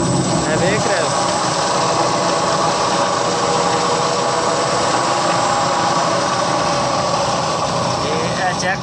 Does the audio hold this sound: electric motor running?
yes